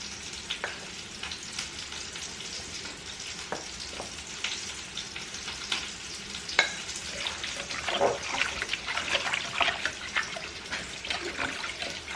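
Water and flour being stirred into gravy in a hot pan: a steady sizzle with watery splashing and scraping stir strokes, growing a little busier toward the end, with no talk.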